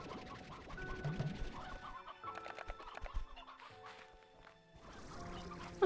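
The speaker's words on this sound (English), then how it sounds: "Oh my god, my beautiful chickens." Chickens clucking in a cozy farming video game, several soft clucks and rustles rising and falling over a light musical background, moderately close.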